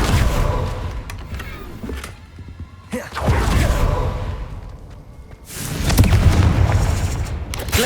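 A Confringo explosion spell in Hogwarts Legacy, loud booming blasts with rushing whooshes and rumbling tails, two big bursts close up, with no talk over them.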